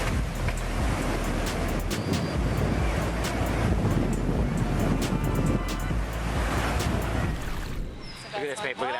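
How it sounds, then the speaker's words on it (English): Massive tidal bore waves on the Qiantang River surge with a heavy, continuous roar of rushing water, buffeted by wind noise on the microphone. The sound eases and thins in the final seconds. "The mighty Cheongtang River, renowned for some of the world's most massive tidal waves, will leave you in awe of its magnificent power."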